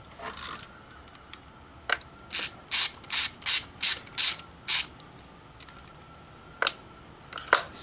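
A ratchet works on a BMW 335i N54 injector shoulder bolt, giving a quick run of about eight sharp, close clicks in even rhythm, with a few scattered clicks before and after.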